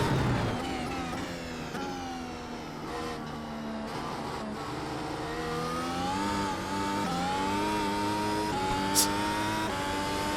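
A 2022 Mercedes AMG F1 W13 engine at full throttle, held as a loud, steady high-pitched whine for the whole stretch, its pitch rising and dipping slightly through gear changes, with no talk.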